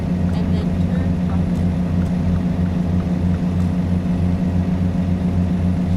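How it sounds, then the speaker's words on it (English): American Truck Simulator truck engine heard from inside the cab, a steady low droning hum with a tinny, echoing quality, constant and moderately loud throughout. "Very tinny sound. There's a lot of reverb in that engine. The way it's echoing in the cabin anyway."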